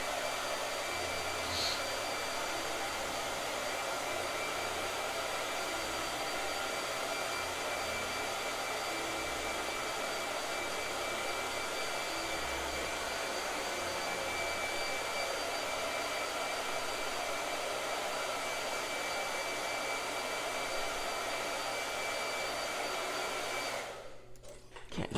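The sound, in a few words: blow dryer running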